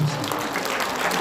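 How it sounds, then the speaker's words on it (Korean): Sustained crowd applause at an outdoor patriotic rally, a dense steady wash of clapping from many hands that holds evenly throughout. "박수 크게 한번"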